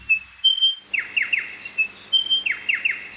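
A spotted pardalote gives repeated high, thin whistled calls in quick clusters of chirps, fairly close and clear against a quiet outdoor background with no talk.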